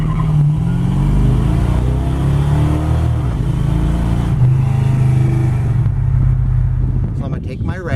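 A 1980 Dodge truck with a 318 engine accelerates hard during a traction bar test, a loud sustained engine roar with rising pitch that drops off near the end.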